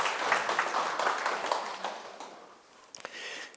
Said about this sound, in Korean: 자, 큰 박수 부탁드립니다.